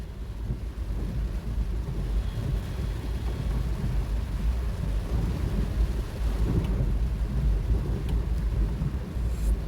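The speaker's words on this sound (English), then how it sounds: "it's starting to rain again" Steady rain pours down with a deep, continuous rumble, a heavy downpour heard from inside a car driving through floodwater in Suriname.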